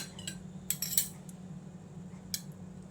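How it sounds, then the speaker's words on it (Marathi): A spoon mixes curd in a bowl, giving a few light metallic clinks and scrapes that are fairly faint over a steady low background hum. "यामध्ये मी हे दही घेते आणि आपण हे छान असं हे मिक्स करून घेऊया"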